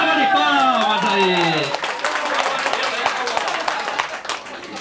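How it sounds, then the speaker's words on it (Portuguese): Studio audience applause on a show stage: a voice speaks at the start, then a burst of scattered, crisp clapping follows and gradually thins out. "Uma salva de palmas aí"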